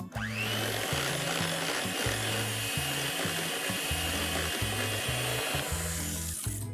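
Unsalted butter and cream cheese are mixed together for cream cheese frosting, with a steady, loud motor whir running throughout and a low, rhythmic thumping as the mixture turns.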